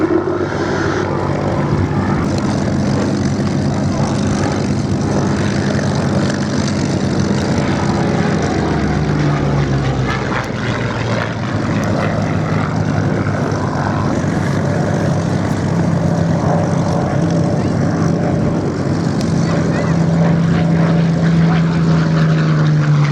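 A P-40F fighter with a Packard Merlin engine flies at an air show, giving a loud, continuous propeller-engine drone that swells and shifts pitch midway, heard alone without talk.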